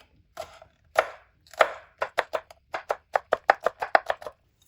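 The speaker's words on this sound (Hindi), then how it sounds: "अब ग्रीन चिली के भी पीस कर लेंगे।" Green chilies are chopped with a knife on a board for an egg breakfast dish, giving a series of sharp, close taps that start sparse and speed into a steady quick rhythm, with no talk over them.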